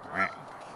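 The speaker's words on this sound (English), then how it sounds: "Listen to them ducks." A single short duck quack, fairly faint, over a quiet outdoor background.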